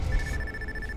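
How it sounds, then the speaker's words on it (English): A phone rings in the video game Watch Dogs, a steady electronic tone held through the whole second over low background game noise and a muffled rumble. "And I'm getting a phone call."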